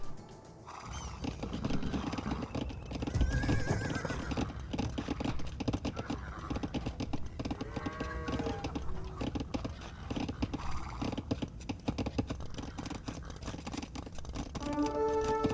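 Horses whinny and hooves clatter among cavalry and knights in the real-time strategy game Age of Empires 2: Definitive Edition. Several neighs rise over a steady, busy bed of game battle noise.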